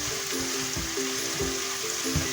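Onions sautéing in a pan with a couple pinches of salt, a steady close sizzle with soft stirring scrapes, accompanied by a low background hum throughout.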